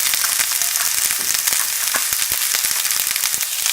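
Green onions frying in about a tablespoon of oil in a wok for a vegetable stir-fry give a steady, close crackling sizzle with scattered sharp pops throughout, and no voices.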